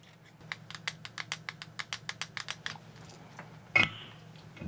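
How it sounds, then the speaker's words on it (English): Buttons on an Xbox Elite Series 2 controller click in a quick run of about a dozen crisp presses, close and distinct. They stop, then a single louder click follows after a short pause. "One making a nice loud click and the other one clicking."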